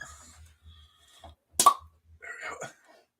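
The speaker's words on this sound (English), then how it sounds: "Pop goes the bottle." A bottle of tea is popped open with one sharp, loud pop in the middle, framed by quiet speech before and after.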